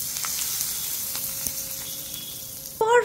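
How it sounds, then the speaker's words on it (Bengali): Mustard seeds, curry leaves and a pinch of asafoetida sizzling in hot oil, a steady hiss with faint crackles, then a sudden louder burst of spitting near the end. "এবার একটা সিম্পল ছক তৈরি করে নেব গরম তেলের মধ্যে, সর্ষে, কারি পাতা আর অল্প হিং দিয়ে"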